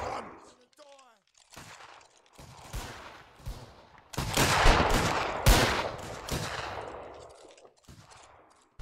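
Massed rifles fire on command in a Mount & Blade Warband Anglo-Zulu battle event: a commanding voice calls out, then a loud, ragged volley of overlapping shots erupts, a second crash follows, and the echoing roar slowly dies away.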